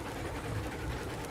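A train locomotive labours up a steep gradient in the Railroads Online video game, a steady low engine drone and rhythmic mechanical chugging at moderate level, continuous and unbroken throughout.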